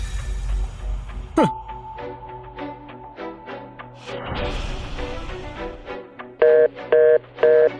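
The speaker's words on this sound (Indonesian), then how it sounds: "Hans, telepon Pak Ali." Someone dials a phone call in a dramatic film scene: a run of short tone beeps plays over a low background hum, then three evenly spaced louder electronic pulses follow near the end.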